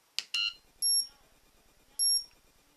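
An Elite-Tek ET-9888 dog training collar pairing with its remote: two short clicks, then two loud, clear, high electronic beeps about a second apart, each lasting a fraction of a second against near silence.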